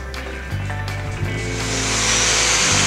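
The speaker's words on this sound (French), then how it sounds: "je peux commencer à faire un ponçage. C'est une ponceuse vibrante" Vibrating orbital sander working a curved concave-convex wooden cupboard door, a steady close motor hum with broadband sanding hiss that builds louder toward the end, no talking.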